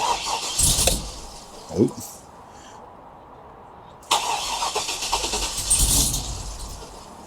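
Chevrolet Trailblazer SS V8 with a stage 2 cam, long tube headers, a stock muffler and no tune cranks close by, pauses, then catches and settles into a loud, lumpy idle, with a brief voice reacting.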